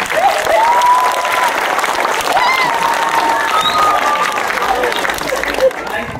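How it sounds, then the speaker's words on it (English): A school audience gives a big round of applause for a donor at a presentation: dense, loud clapping from many people, with some cheering and a few voices in the mix. "Can I give you a big hand of applause?"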